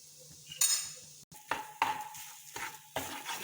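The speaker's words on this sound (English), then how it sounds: "So I am continuously stirring this for almost 1 to 2 minutes now" Grated coconut stirred in a dry pan to drive off moisture for coconut barfi, with intermittent metal scrapes and clinks of the utensil against the pan, several sharp strokes separated by short pauses.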